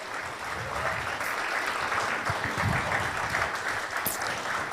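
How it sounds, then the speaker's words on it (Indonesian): Sustained audience applause at an Indonesian civic event honouring young volunteers, a dense wash of clapping holding steady throughout with a few louder bursts, no speech over it. "Kisah beri tepuk tangan yang meriah buat teman-teman aksi bersama ini."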